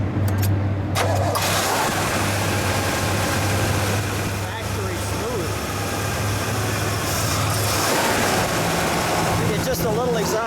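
A 1965 Pontiac GTO hardtop fires up and settles into a loud, rumbling idle close by, with a brief crank at the start, someone talking over it and other cars rumbling in the background.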